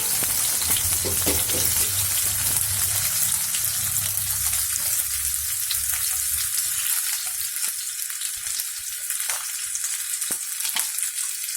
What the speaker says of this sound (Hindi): इसके बाद मैं दूंगी फर्स्ट कैशू नट। इसको ज्यादा फ्राई नहीं करना है,